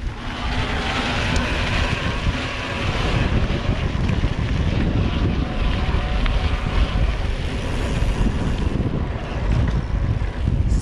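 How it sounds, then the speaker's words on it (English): Wind rushes past while riding a Giant Trance E+ 1 Pro electric mountain bike on a trail, with continuous broadband roar and rumbling tire noise under the high-volume tires, steady and fairly loud throughout. "you're feeling the wind and you've got some trail noise under those tires."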